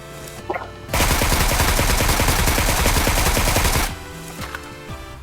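Sustained automatic gunfire in PUBG Mobile: a dense, loud burst of rapid shots lasting about three seconds, then cutting off abruptly with faint game ambience before and after.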